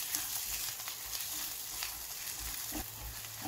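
Chili powder, coriander powder and cumin powder fry and sizzle in a pan over low heat for toor dal usal, with a soft steady hiss and occasional scrapes of stirring, close and quiet.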